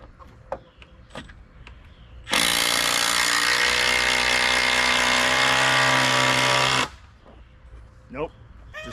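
A cordless power drill runs in one loud, steady burst of about four and a half seconds while a pallet chicken pen is being built outdoors, with quiet, scattered sounds before and after.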